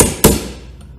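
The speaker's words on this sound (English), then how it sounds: "just a little tap with the hammer" A hammer strikes a small punch once to loosen a shaft on an IKA RW20 Digital stirrer, giving a single sharp metallic tap close up, followed by a short ringing decay.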